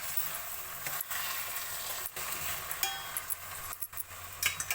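Washed rice fries in a pan for coconut rice, giving a continuous close sizzle broken by brief pauses and scraping stirs, with a few light clinks of a utensil against the pan near the end.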